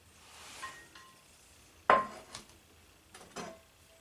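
A steel pan, a camp cooking pan used outdoors, clanks once sharply near the middle, with a few lighter metallic knocks and rattles before and after, close and fairly quiet.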